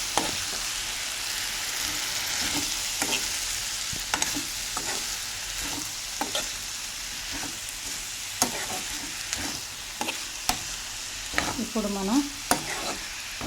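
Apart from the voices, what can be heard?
frying and stirring green chillies and tomato pieces in a pan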